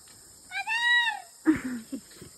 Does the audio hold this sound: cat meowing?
yes